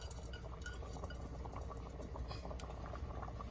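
Parboiled rice seasoned with onion, salt, butter and margarine simmering in a pot, a steady low bubbling rumble with faint clinks, continuous and quiet.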